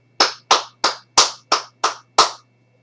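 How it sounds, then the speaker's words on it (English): Seven separate, evenly spaced claps ring out clearly one after another, like a single person or a small group clapping along for RoboCop on a talk show, with nothing else audible around them. "Can we get a clap for RoboCop?"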